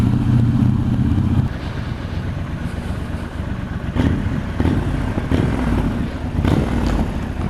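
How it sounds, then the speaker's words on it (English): A Triumph Scrambler 1200 XE motorcycle's exhaust burbles and rumbles while being ridden, a close, throaty engine note that shifts in pitch and loudness as the throttle changes, with wind noise behind it. "Triumph are great at that sort of thing, aren't they? Getting exhaust sounds right."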